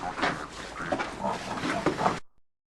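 A deep, guttural grunting noise rasps for about two seconds, rough and animal-like, then cuts off abruptly into silence.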